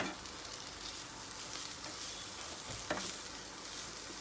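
Cubes of processed paneer sizzle gently in oil in a pan over a low flame, a steady close crackle broken by a few light scrapes of stirring.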